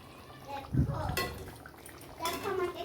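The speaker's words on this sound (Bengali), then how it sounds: "কাঁচা লঙ্কাটাকেও একটু নেড়ে চেড়ে দিচ্ছি" Green chillies stirred in a pan of Bengali doi katla, Katla fish curry in yogurt, with a spoon scraping and clinking against the pan beside bubbling liquid as a person talks.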